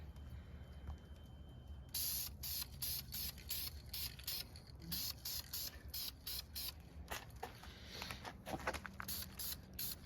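An aerosol can sprays paint onto the brake calipers of a Mustang GT in short repeated bursts of hiss, close and fairly quiet, with pauses between passes and no talk.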